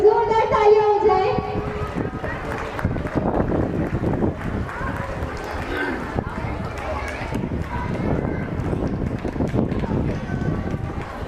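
Applause from an audience at a school annual day celebration for a child who won second position, a dense, steady clatter of many hands sustained for several seconds, with a brief voice at the start.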